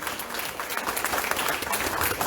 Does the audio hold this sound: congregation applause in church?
yes